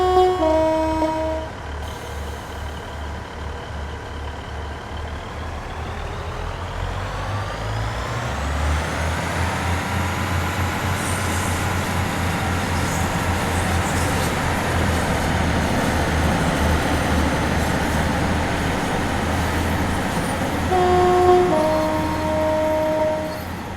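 Class 150 diesel multiple unit in Train Sim World 4 on the West Cornwall local line. The engine idles with a low steady throb, then the revs climb to a sustained droning roar. A brief horn-like toot sounds near the end.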